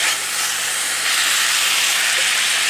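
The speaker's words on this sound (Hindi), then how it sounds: "अब बारीक कटी हुई प्याज शामिल करेंगे। एक मिनट के लिए पकाएंगे।" Finely chopped onion frying in a pan gives off a loud, even, continuous hiss that holds steady without a break, with no voices over it.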